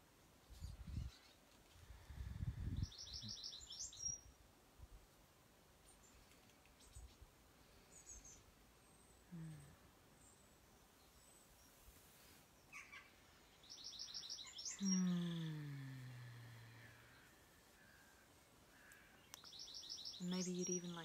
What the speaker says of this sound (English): let the environment help you with that, you know, the birds.